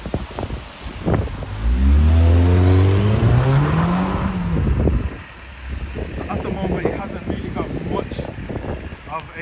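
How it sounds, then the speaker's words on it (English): Volkswagen MK6 GTI with DSG gearbox and aftermarket exhaust revs up loudly, rising and falling in a long throaty sweep, then settles into a rumbling idle with a few small crackling pops; someone talks over it. "A farting noise, it just has a little pop"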